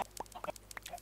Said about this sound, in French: Ici une ferme à œufs, hein, vous savez, un de ces entonnoirs avec cloc cloc cloc, avec des poulets qui pondent.